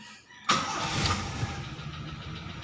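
A Toyota big body XE car engine cranks and fires after a short quiet moment, then settles into a steady, close idle rumble with no talking over it.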